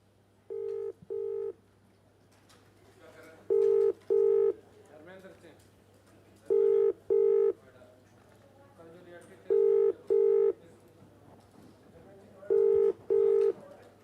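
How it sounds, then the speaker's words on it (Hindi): A phone line in Uttar Pradesh, India rings in repeated paired tones at regular intervals, a steady ringback pattern with faint background hum between rings, while calling a police officer who does not answer. "हमने नंबर डायल किया है, देखते हैं मिलता है कि नहीं"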